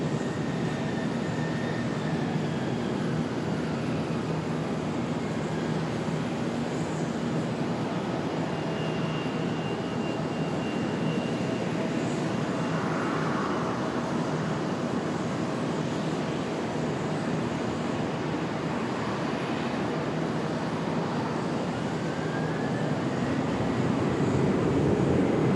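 Airliner coming in to land at Charlotte airport, a steady broadband jet roar that holds loud and constant throughout, with no talk over it.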